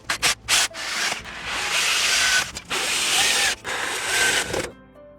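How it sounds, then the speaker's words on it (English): Bolts are driven into the corners of a budget wooden workbench with a power tool, several whirring, rasping runs separated by short pauses, close and steady, without speech. "So now I'm going to bolt those corners on"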